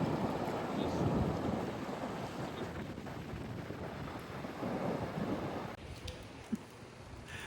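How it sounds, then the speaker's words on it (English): Light rain sprinkles onto a gray, empty beach at Port Aransas, a steady soft hiss mixed with gusts of wind noise and no talking. "We were hoping to catch it before the rain started, but it's already sprinkling."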